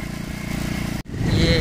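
A motorbike engine in a village putters in a close, rhythmic idle, briefly cut off for a moment before revving back up louder, with someone talking over it.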